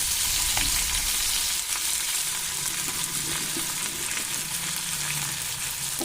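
Small diced potatoes fry in a pan for a spring onion and mourala fish chorchori, giving a steady, close sizzle with soft, irregular scrapes and taps as they are turned.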